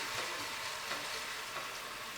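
Saltfish fritter batter frying in hot oil, a steady, dense sizzle that is even and unbroken throughout, close and fairly loud, with no talking.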